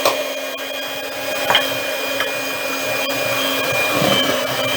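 Electric hand mixer whirring steadily while beating cocoa powder into chocolate icing, a continuous close motor drone with no talking.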